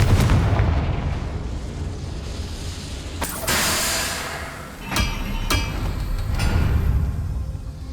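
Repeated fiery spell blasts in a Hogwarts Legacy battle: a sharp crack opens, then several sudden booming bursts land a second or two apart, each with a rushing, crackling tail over a rumbling background.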